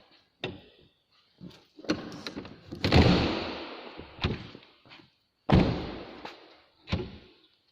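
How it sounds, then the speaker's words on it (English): Several loud thumps and slams of an old car's door being shut, failing to close, spaced irregularly with brief rattles and quiet gaps between. "Oh, now the doors won't shut."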